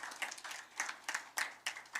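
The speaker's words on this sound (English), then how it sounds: "and a big applause for all of you" Scattered audience clapping at a hotel press meeting in Paramaribo, a few individual claps at uneven intervals, quiet and sparse, without voices over it.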